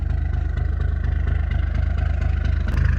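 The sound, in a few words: bus engine idling, turbo fried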